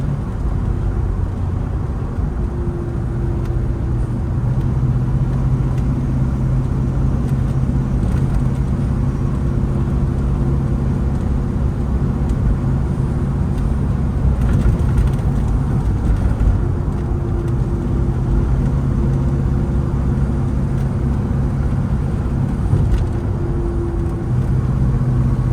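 A 1972 Plymouth Roadrunner cruising on the road, its engine a steady low drone with faint tonal hums that shift slightly over the drive, fairly constant in level throughout with no one speaking.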